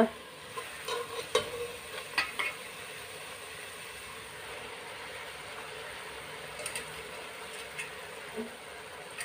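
Drumstick leaves are stirred into a hot pan with salt and turmeric, giving a soft, low sizzle with a few light scraping clicks early on before settling into a faint steady hiss.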